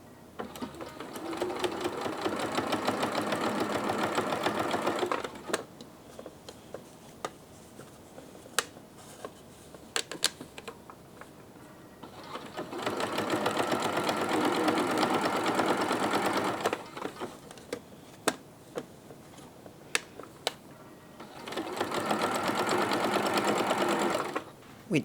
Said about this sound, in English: I'm going to understitch just on the under pocket side of this seam so that it keeps the seam attached to this